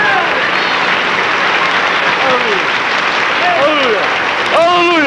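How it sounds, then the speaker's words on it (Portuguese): A large gathering at a 1994 national pastors' meeting in a church hall claps steadily in a loud, continuous roar, while a voice calls out over it in rising, sustained shouts. "você poderia aplaudi-lo com bastante palmas"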